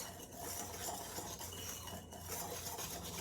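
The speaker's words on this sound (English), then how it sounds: "we're going to whisk all the dry ingredients together until they're well incorporated" Dry ingredients of flour, sugar and nutmeg whisked in a bowl for a berry cobbler, a steady scraping, rubbing swirl with faint metallic clinks running throughout at a fairly soft level, no talking.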